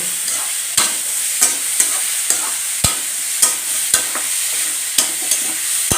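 Spice masala being stirred into kuduli achar in a pan, with mustard in the dish: a steady sizzle broken by about a dozen sharp scraping strokes of the spoon at an uneven, unhurried pace, close and clear with no talking.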